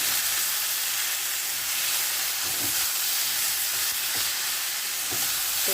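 Food frying in a pan with salt and turmeric, stirred under a steady loud hiss of sizzling oil, with occasional faint scrapes of the spatula and no talk.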